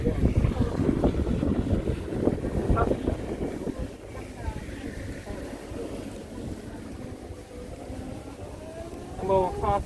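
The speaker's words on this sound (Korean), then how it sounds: "카트를 타고 찍고 있습니다" A golf cart rolls across a golf course in Ho Chi Minh City, Vietnam, with a steady motor whir and wind buffeting the microphone, while people chat briefly early on and the ride settles into a quieter hum.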